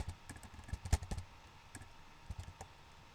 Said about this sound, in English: So we will type SQL Server Management